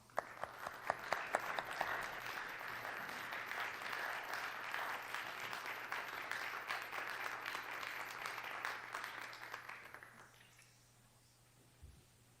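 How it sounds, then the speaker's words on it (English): Applause in the South Dakota Senate chamber for a newly sworn-in Senate page, a steady wash of many hands clapping for about ten seconds before fading out. "Let's give him a round of applause."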